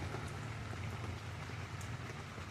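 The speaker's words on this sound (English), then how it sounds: "listening to the pitter patter of the rain" Steady rain patters outdoors on an early Sunday morning, a dense, even hiss of drops with a low rumble beneath. No voices are heard.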